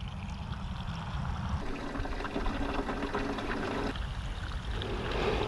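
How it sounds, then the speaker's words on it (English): Water drains out of a shrimp cooler through its open drain, a continuous close gushing and splashing that changes in tone partway through and keeps running steadily. "now the drain's open, and as you can see, the cooler will drain"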